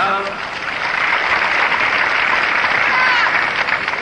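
Crowd applause after a point in the 1973 US Open men's final between Jan Kodes and John Newcombe, a dense, steady wash of clapping from a large stadium audience, loud and unbroken throughout.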